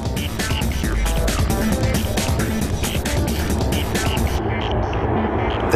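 An Airbus A380 airliner on final descent to landing gives a loud, continuous jet roar that stays steady and close throughout, with a faint broadband hiss and no pauses.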